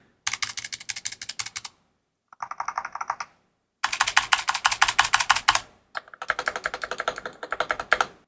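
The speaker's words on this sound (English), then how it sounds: "I'm going to do some more typing now so you all can hear it." Someone types on a RoyalAXE R100 mechanical keyboard. The rapid, crisp keystrokes come close and clear in several bursts, with brief pauses between them and no talking.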